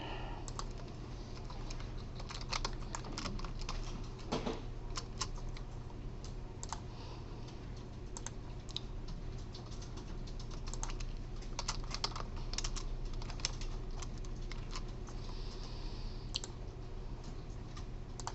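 Quick, uneven keystrokes clatter on a computer keyboard without pause for the whole stretch, close and clear over a faint steady room hum while lecture notes are typed.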